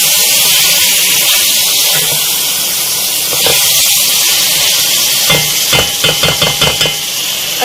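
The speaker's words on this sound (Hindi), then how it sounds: "इन आलूओं को भी हमें अच्छी तरह मसाले के साथ भूनना है थोड़ा" Potatoes frying with masala in a pan for an aloo baingan sabzi, giving a steady loud hiss and sizzle, with a run of quick spoon scrapes and taps near the end.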